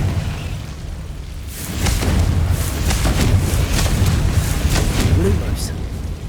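A Confringo fire spell from Hogwarts Legacy bursts repeatedly with loud, rumbling booms, several close blasts in a row over a steady background roar.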